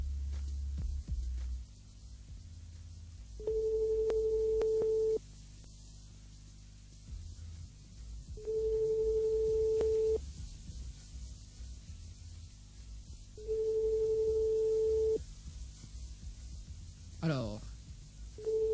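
Telephone call goes unanswered, giving three long, steady busy or ringback tones about two seconds each with short gaps, over low hum and static; a brief sweeping noise follows near the end.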